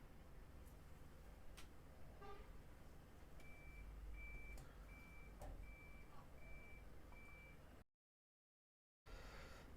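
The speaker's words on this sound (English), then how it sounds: "Recording a video and a concrete truck turns up outside." Outside a quiet room, a concrete truck reverses with a run of regular, evenly spaced single-tone beeps. They sound faint and distant over low background rumble, and the recording cuts briefly to silence near the end.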